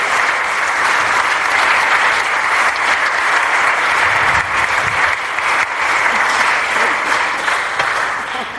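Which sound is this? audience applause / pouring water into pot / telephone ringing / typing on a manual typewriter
audience applause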